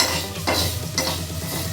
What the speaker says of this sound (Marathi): शिजण्यासाठी मी आता हे तांदूळ भाजून घेत आहे आणि त्याच्यातली थोडीशी विलायची टाकलेली आहे.